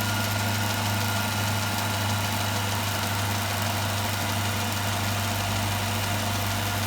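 Engine-driven generator built from an induction motor, running at about 48 Hz below its target speed: a steady, loud mechanical hum with a low engine drone and constant vibration, unbroken throughout and without talk.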